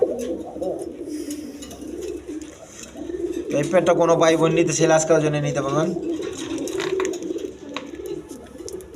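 Bombay pigeons at a pigeon farm coo in a repeated, rolling pattern, strongest in the middle stretch, while someone talks over them throughout.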